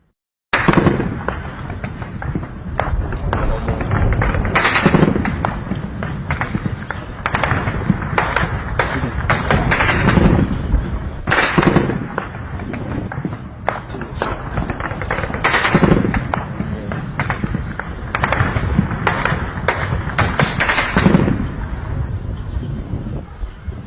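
Rapid bursts of gunfire crack out repeatedly in Abuja, loud and close, with sharp shots clustering in volleys across a constant noisy background.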